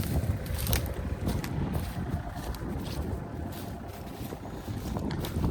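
Strong wind blows outdoors on a property being cleared of trees near a mostly dried-up pond, buffeting the microphone with a steady loud roar and gusty surges throughout.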